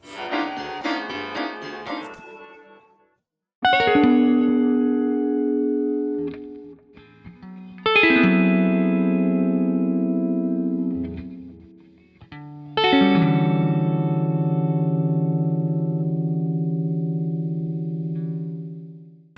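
Three long, drawn-out guitar chords, slowed down and heavily smeared with effects, each swelling and ringing for seconds after a short fluttering opening.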